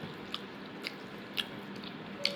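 Cooked pangas fish being chewed up close, a soft wet mastication with a few faint crisp bites spaced about half a second apart, quiet and without talk.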